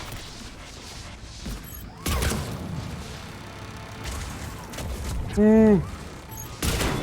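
Enemy turret gunfire in Mass Effect Legendary Edition combat, booming bursts and rumbling blasts over noisy battle sounds, with a voice exclaiming briefly.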